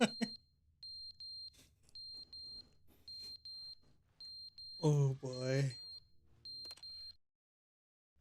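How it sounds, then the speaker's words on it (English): A fire alarm in The Stanley Parable game beeps in repeated bursts of short, shrill tones with brief gaps between them, while someone speaks briefly partway through, and it all stops near the end. "That's the fire alarm."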